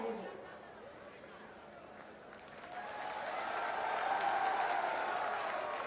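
An audience at an NTPC Dadri event in Gautam Buddh Nagar applauds to welcome the chief minister, a steady wash of crowd clapping that swells louder midway and holds, with faint chatter underneath.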